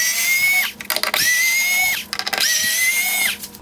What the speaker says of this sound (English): There are 3 T20 screws holding the ballast in place.